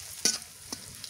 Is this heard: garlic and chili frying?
yes